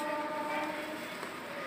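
A myna bird at the Tongi bird market mimics a vehicle horn, producing a faint, sustained, tonal honk-like note that holds steadily across the short stretch.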